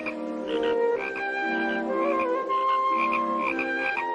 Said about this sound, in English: Here we show you a close-up of a frog croaking.